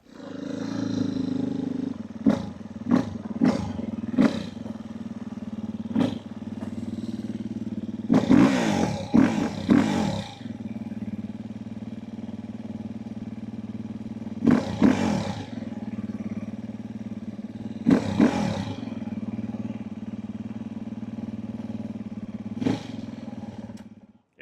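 A dirt bike fitted with oversized ATV tires idles steadily outdoors on a cold day, its low engine drone broken by several sharp revving bursts and throttle blips.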